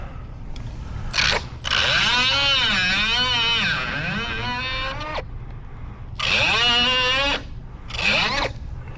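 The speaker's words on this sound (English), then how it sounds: "Trusty little cutoff tool." A small cutoff tool trims a protruding part while a slide lock is fitted on a steel door, making two loud, close bursts of high grinding whine with rising and falling pitch and a brief pause between them.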